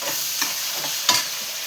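Tomatoes tipped into a hot frying pan and stirred, giving a steady soft sizzle with a few scraping stir strokes, one louder clack near the end.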